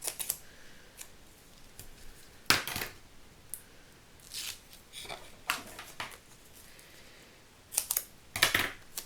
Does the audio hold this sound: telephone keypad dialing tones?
no